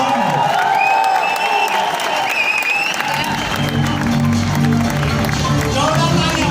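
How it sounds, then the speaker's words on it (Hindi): Audience applause at a network marketing friends meet in India, a steady wash of clapping from a crowd, with a voice and some cheering over it. "आप तालियों से बधाई दे सकते हैं दोनों"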